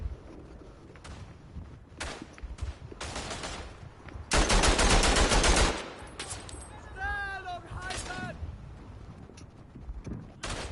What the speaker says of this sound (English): A nice little machine gun surprise.